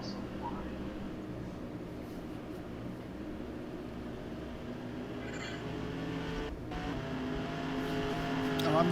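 Race cars roar around the track at Irwindale in a FARCA 150 race, a dense steady engine drone that swells louder toward the end as a Dodge speeds past, with a commentator talking over it.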